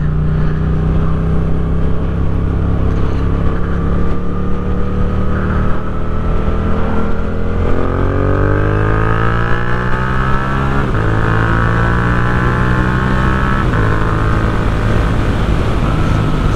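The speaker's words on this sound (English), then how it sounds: "Certainly picks up well, this bike." Yamaha MT-07 motorcycle on a commute, its engine droning loud and close, then rising in pitch through several gear changes as the bike accelerates, with no talking over it.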